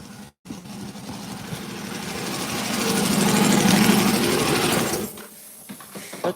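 An air compressor on a farm, running as a rapid mechanical chatter that swells louder for several seconds and then drops away abruptly after a short silent gap near the start.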